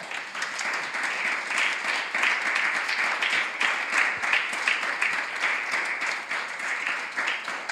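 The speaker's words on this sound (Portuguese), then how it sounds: "As palmas para Jesus." A church congregation claps for Jesus during a music workshop, dense sustained applause from many hands that stays loud and even from start to finish.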